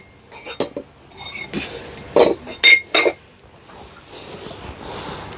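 Metal weight plates clink and clank against each other as they're loaded onto the leg attachment of a gym situp bench, several sharp close knocks in a cluster, then quieter rustling.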